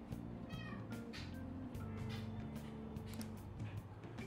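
A cat meows on a Tokyo subway train in the video game Persona 5 Royal, amid steady game music and a low rumbling backdrop, the cries short and repeated, fairly clear over the mix.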